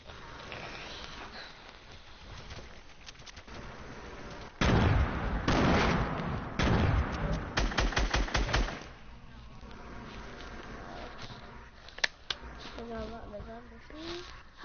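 A drum gun in a video game fires in rapid automatic bursts, loud and dense, mostly in the middle stretch, with quieter game sounds and talk around it.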